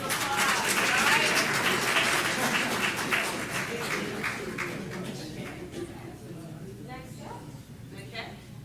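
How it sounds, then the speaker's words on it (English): At a school board meeting the audience gives a big round of applause, loud and dense at first, then gradually thinning into scattered claps as voices murmur underneath. "Let's give them all a big round of applause"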